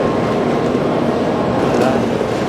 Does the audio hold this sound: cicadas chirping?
no